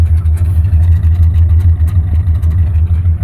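A 1968 Dodge Monaco 500 with a stock big-block Mopar V8 rumbles close and loud, holding a steady, throbbing note with light revs rather than sharp spikes.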